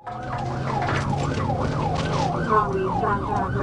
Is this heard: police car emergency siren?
yes